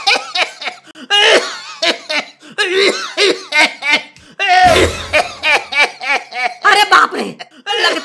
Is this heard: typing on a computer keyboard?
no